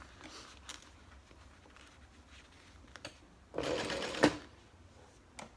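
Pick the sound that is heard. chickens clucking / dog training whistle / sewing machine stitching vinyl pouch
sewing machine stitching vinyl pouch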